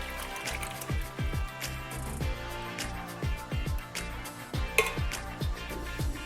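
Tomatoes tumble into a chicken stew pot with wet splashes, metallic clinks and soft plops in an uneven series, close and moderately loud, without any talk.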